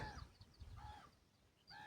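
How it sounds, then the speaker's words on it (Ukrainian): Harsh, deep caws from ravens, a few calls spaced out over a low rumbling background, fairly close. "Це якісь круки чи що щось таке велике, точно не ворони."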